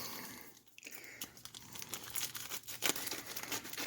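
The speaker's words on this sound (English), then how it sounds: "So we're gonna cut this thing open." A postal package shipped from Russia is cut open, with crinkling plastic and tearing packaging noises building up close by, quiet at first and growing busier.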